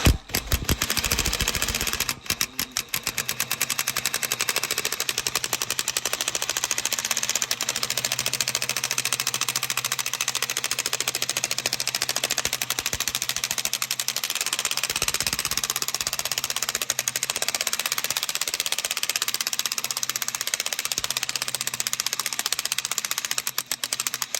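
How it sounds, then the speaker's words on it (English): A cheap Harbor Freight grinder fitted with a small burr bit grinds out broken studs on an Oliver Super 77 tractor brake assembly, giving a continuous high whine and rasp close to the microphone for the whole stretch. "I'm using this little burr bit and this little cheap Harbor Freight grinder"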